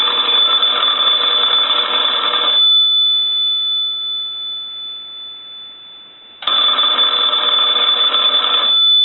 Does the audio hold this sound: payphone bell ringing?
yes